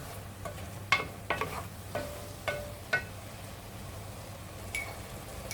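Mushrooms and onions cooking in a pan for beef stroganoff, with a scattering of sharp utensil scrapes and clicks over a quiet, steady low hum and faint sizzle.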